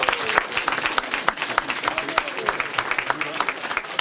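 A crowd applauding steadily inside a restored church, many hands clapping in a dense patter that continues throughout, with a voice briefly heard over it.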